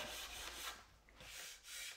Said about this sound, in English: a sanding sealer is designed to be sanded, so it works very easily